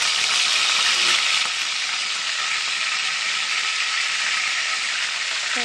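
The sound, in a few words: curry leaves sizzling in hot oil in a pan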